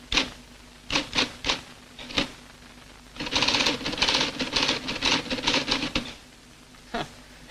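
Keys clatter on a 1963 timesharing computer terminal, first in a few separate strokes, then in a dense mechanical burst of rapid typing before tapering to single clacks; close and crisp, with no talking.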